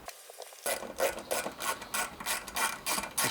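Fasteners being tightened on handlebars of a 2024 Harley-Davidson Road Glide, a steady series of close, rhythmic ratchet clicks repeating for about three seconds after a brief quiet start.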